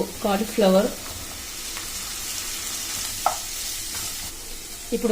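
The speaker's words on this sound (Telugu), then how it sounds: "ఇప్పుడు ఇవన్నీ కొద్దిగా దూరగా ఫ్రై అయ్యే వరకు కలుపుకొని పెట్టుకోవాలి" Carrot and capsicum stir-fry in a hot pan for cauliflower fried rice, a steady sizzle running throughout with a few scraping stirs of the spatula, no talking.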